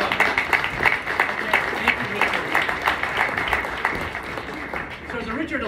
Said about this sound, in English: Wow, you've never applauded me before.